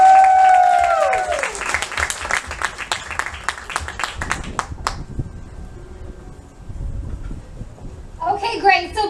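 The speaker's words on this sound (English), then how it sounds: "And so let's please give them a big round of applause." Audience applause for the organizers at a 2017 women's event, loud clapping that fades out after a few seconds, followed by quieter room noise and a brief burst of speech near the end.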